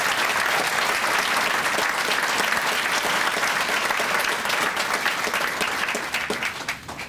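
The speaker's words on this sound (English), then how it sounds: "Please join me in a round of applause for all the retirees on a job well done." Steady, dense applause from an audience at a federal civil service retirement ceremony honoring retirees, sustained throughout and tapering slightly at the end.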